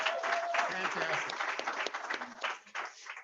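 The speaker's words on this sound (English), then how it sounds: "Give everybody a round of applause." Applause from an audience at a sales recruiting opportunity night, a sustained crowd clap running throughout with voices and cheering mixed in.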